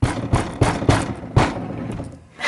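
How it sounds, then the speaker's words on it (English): Five heavy thumps against the playfield of a Cactus Canyon remake pinball machine, spaced about a third of a second apart and then a pause before the last, close and loud, with no talking. "Now we'll bang on the playfield."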